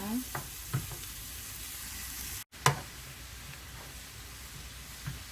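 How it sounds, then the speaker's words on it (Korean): Clam meat seasoned with soy sauce stir-fries in a pan as a noodle-soup topping, making a soft continuous sizzle with a few light stirring clicks and one brief dropout partway through. "조개살을 볶아줍니다."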